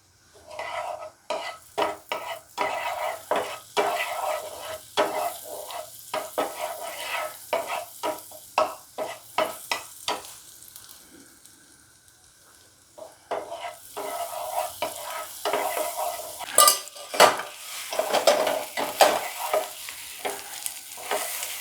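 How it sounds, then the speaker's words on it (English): Garlic sizzling in a pan while a utensil scrapes and stirs it in quick repeated strokes, with a quieter stretch of gentle frying midway before brisk stirring resumes, close up and without speech. "We put some garlic."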